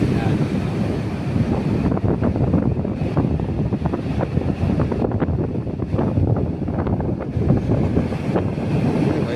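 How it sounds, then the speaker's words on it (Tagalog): Strong waves surge on a sea beach at Infanta, Quezon, a dense continuous roar of churning surf heavily mixed with gusting wind buffeting the microphone, loud and unbroken throughout. "Grabe yung lakas ng alon"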